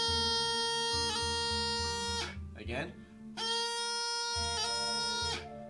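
A bagpipe plays a high A doubling using a thumb tap on the back hole: a loud, sustained reedy tone over a steady drone, broken by quick grace-note flicks and a brief pause, with one short spoken word.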